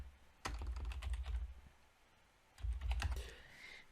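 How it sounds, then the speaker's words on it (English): Keys clatter on a computer keyboard as an email address is typed, in two quick bursts of rapid, close keystrokes separated by a short pause, with no talking. "So I'm going to type in my email that I'm going to use for this"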